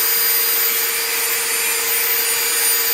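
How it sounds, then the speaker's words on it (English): Loud, steady high-pitched whirring of small G-Force cooling fans on an Arrma Mojave 6s RC car blowing continuously, with a constant tonal whine and no breaks. "the fans are blowing all around here"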